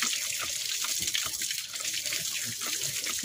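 Tap water runs steadily to rinse mud off bare feet after wading through floodwater, a continuous close splashing hiss with uneven spatters, no talking.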